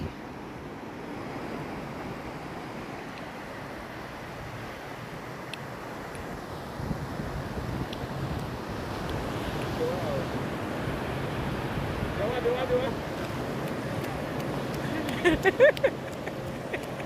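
Ocean waves wash steadily on the shore, a broad continuous rushing surf mixed with wind buffeting the microphone, moderately loud and unbroken, with a few faint clicks near the end.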